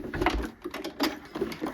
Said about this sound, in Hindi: मैं अब यहाँ पर इसके ऊपर एक और सिलाई लगा दूँगी